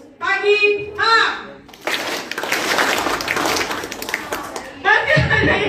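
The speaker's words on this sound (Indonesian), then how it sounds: "yang malam masih ada yang tepuk tangan, belum fokus" A group of junior high school students claps in a brief burst of scattered, uneven hand claps during a classroom talk, bracketed by young voices speaking just before and after.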